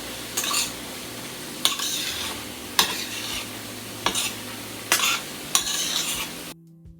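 Shrimp and ground turkey sizzle in a pot as a utensil stirs them, six sharp scraping strokes at a steady rhythm over continuous frying hiss, close and loud, ending abruptly.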